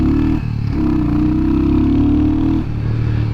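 Royal Enfield Hunter 350 custom motorcycle, built as a trials replica, pulling away with a steady, loud, close engine drone that shifts pitch as it rides off.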